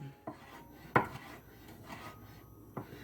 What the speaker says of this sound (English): my secret ingredient that I was going to tell you about is Polish sausage. I always cut it up pretty thin